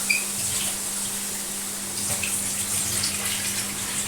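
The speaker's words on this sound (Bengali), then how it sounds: "আমি একবারে জলটা দিয়ে দিচ্ছি।" Water is poured in one go into a pan of Bengali-style spicy shankar fish curry, a steady rushing, splashing pour heard close and alone with a faint constant hum beneath.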